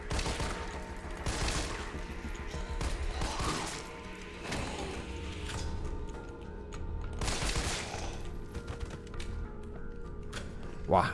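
Repeated heavy gunshots from weapons in the Resident Evil 3 Remake video game, spaced blasts over steady background noise during a large zombie attack, with someone talking over them.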